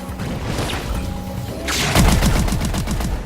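A shotgun fires in Call of Duty Exo Zombies, a sharp loud blast followed by a rapid burst of crackling shots and clatter, no talking.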